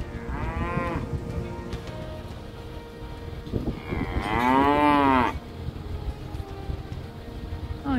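Cattle low loudly and close by at a former kibbutz dairy farm, with two long drawn-out moos, one short and one longer and stronger, over a low steady outdoor background.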